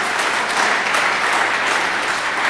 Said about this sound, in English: Would you please give him a nice round of applause